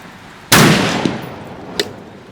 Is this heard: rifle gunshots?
yes